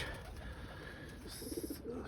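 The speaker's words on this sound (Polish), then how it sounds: "Gołębie, jak widać, ciepło jest, wesołe" Pigeons cooing softly nearby, a few low rolling coos near the end over quiet background noise.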